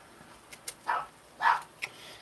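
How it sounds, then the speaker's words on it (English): A dog barking indoors during a home livestream: a few short yips followed by two louder, drawn-out barks and a final quick yelp, moderately close, with no talk over them. "now my dog's not going to shut up"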